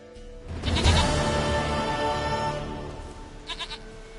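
A goat in the fantasy video game The Witcher 3 lets out one long, loud, wavering bleat close by, followed by a short fainter bleat near the end.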